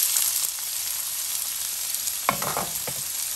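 Onions hit hot extra virgin olive oil in a saucepan and sizzle loudly and steadily, with a few stirring scrapes and bursts of crackle near the end.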